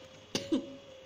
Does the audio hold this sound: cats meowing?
no